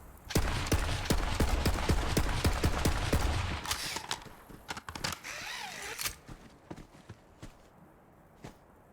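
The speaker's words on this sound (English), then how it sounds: "Can you tell me if the sound is in sync when I shoot the wall here?" Rapid bursts of gunfire strike a wall in the video game Borderlands 3, loud sharp shots in a fast rhythm for several seconds, then scattered single impacts and clatter trailing off.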